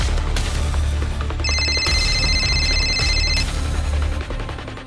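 A telephone rings loudly with a sustained electronic tone, steady for about two seconds, over constant low background noise.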